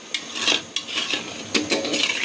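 A metal spoon scrapes and clatters against a pot while marinated mutton sautés with whole spices for biryani. Several quick scraping strokes come in close, moderately loud bursts, and no one speaks.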